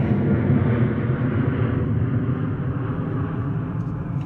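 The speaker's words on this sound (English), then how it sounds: "Another Norse 787-9er Dreamliner coming in from JFK, New York" A Norse Boeing 787-9 Dreamliner, arriving from JFK, lands at London Gatwick with a steady, broad low jet rumble that holds evenly throughout, heard from some distance with no voices.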